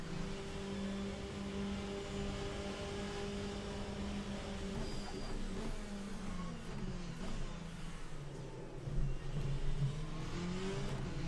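Race cars in the Le Mans Ultimate racing game, a Ferrari among them, roar steadily and rev up and down through corners, with shifting engine tones and a louder surge near the end.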